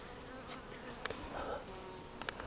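Honey bees fly out of their hives on a cold, overcast December day, giving a faint, continuous outdoor buzz with a few louder passes as single bees fly close to the microphone; no one speaks.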